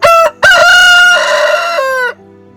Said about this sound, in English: There's another rooster down in the gully.